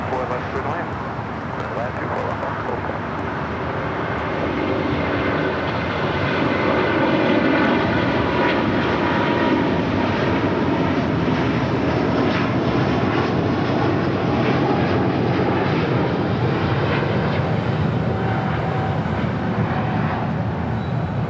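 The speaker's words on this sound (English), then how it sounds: "Lufthansa, Flight 452, coming in from Munich." Lufthansa flight 452 from Munich arrives at LAX with a sustained, loud jet roar that rises slightly and then holds steady. A voice talks over the engine noise.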